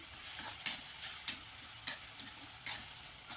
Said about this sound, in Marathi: हे मिश्रण पुन्हा एकसारखं हलवून घेऊया चमच्यानं